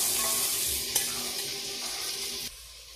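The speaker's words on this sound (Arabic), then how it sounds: "نزيت وزمول تقلي غير في البصل" Chopped onion frying in hot oil in a pan, a steady close sizzle with a faint stirring scrape, then the sizzle drops quieter near the end.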